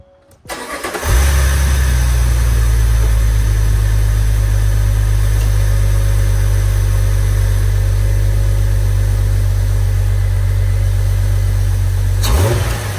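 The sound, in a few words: Jeep engine starting and idling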